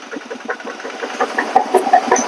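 A Thai farm tractor engine runs close by with a steady, knocking idle chug and repeated mid-pitched pulses, plus a few brief sharper tones on top.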